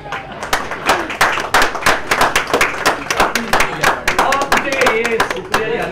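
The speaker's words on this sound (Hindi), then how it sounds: "Please give a big hand." An audience claps at a television show launch press conference: sharp, scattered hand claps in uneven bursts, with voices talking over them.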